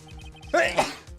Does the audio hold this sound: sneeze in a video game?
yes